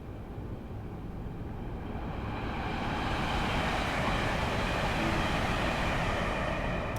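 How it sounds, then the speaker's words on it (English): Modern electric or diesel train on the West Coast Main Line in Train Sim World 6 passing as a steady broadband rumble and rush that builds gradually and stays loud, with no talking. "Honestly, that was a train."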